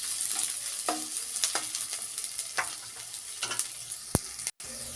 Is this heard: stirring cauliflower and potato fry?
yes